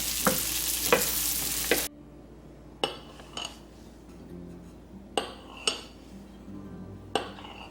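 Canned corn with house seasoning frying in a skillet: a loud, steady sizzle for about two seconds, then quieter frying under several sharp clinks and scrapes of a utensil stirring in the pan.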